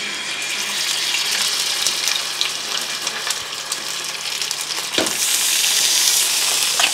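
Fish frying in hot coconut oil gives a loud, steady crackling sizzle with scattered pops, close up and continuous, with no talking.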